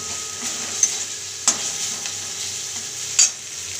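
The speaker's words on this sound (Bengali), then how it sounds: "মশলাটাকে গ্যাসটাকে হাইতে দিয়ে এবার মশলাটাকে ভালো করে ভেজে নেব" Spice masala frying in oil over a high gas flame for eggplant and hilsa curry with kalonji, a steady hiss broken by three sharp spatula scrapes as it is stirred, close and alone.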